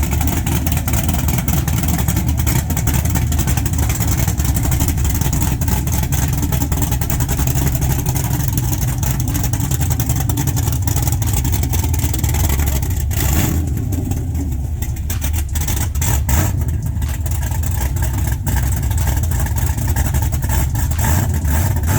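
A loud LS3 V8 engine in a 1969 Chevrolet Camaro runs steadily for a long stretch, rumbling and revving up and down with a roaring exhaust, close by and unbroken.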